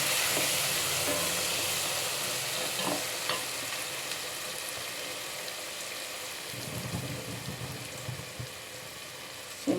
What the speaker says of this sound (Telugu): మందంలో పెట్టుకొని వేసుకోవాలి ఇదంతా ఇట్లా వేపుకుంటూ